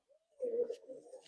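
A single soft, low coo from a Madrasi or Malwai pigeon in a loft, brief and close, rising and trailing off over about a second.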